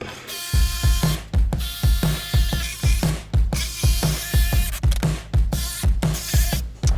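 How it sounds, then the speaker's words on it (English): Jigsaw cutting a shape out of scrap wood, its rapid buzzing blade running in repeated short bursts with brief pauses between cuts, close and loud with no talking. "So now we just cut this shape out with our jigsaw."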